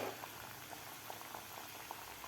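Jaggery and wheat flour kapnya dough pieces frying in oil on medium heat, giving a steady, close bubbling sizzle with faint crackles throughout.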